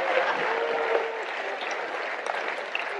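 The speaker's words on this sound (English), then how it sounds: "Clap your hands, all ye people." An audience at a church sermon applauds with dense, continuous hand clapping, a sustained even patter heard alone without talk.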